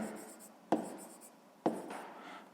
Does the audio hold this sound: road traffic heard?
no